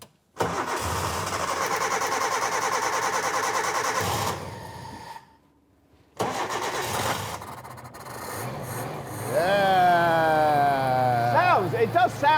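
A scrapyard Suzuki car engine cranks, then catches and runs, settling into a steady, fairly loud idle with rising and falling revs, with brief talk and a pause in between.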